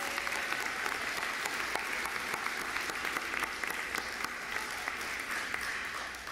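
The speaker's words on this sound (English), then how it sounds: "Special round of applause." Steady applause from a commencement audience at a university graduate school ceremony, a dense wash of many hands clapping continuously at an even level, heard without talk.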